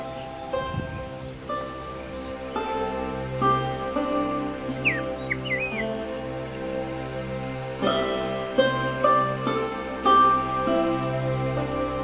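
Steady drizzling rain falls over a crafts village with a bamboo gate, a soft continuous hiss that runs through the whole stretch beneath sustained tonal music.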